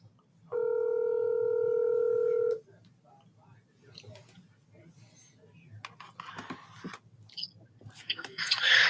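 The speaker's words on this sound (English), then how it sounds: "Okay, I'm calling him right now." A telephone is dialed for a call, with a single steady dial tone lasting about two seconds, followed by faint clicks and rustles and a few soft voices.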